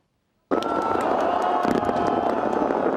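After a brief silence, dense crackling fireworks burst out and keep going, loud and continuous, with a crowd murmuring underneath, at a North Korean New Year celebration.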